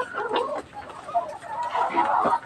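Backyard-farm chickens about 23 weeks old, laying hens, clucking in short, close bursts with a brief lull between them, over a low murmur of background noise.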